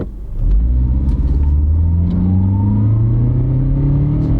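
A small Honda car engine pulling hard under full throttle from the cabin, a loud steady drone whose pitch climbs smoothly through the rev range without a break.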